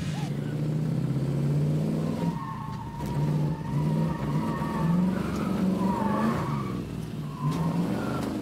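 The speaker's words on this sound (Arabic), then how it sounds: "رح نبلش اول شيء مع السلالوم تيست ونشوف الفورد ماستنج موديل 1966 كيف رح تتجاوب معي" A 1966 Ford Mustang V8 weaves through a slalom test, its engine droning steadily with rising and falling revs and brief tire squeal through the turns, close and continuous, with a voice talking over it.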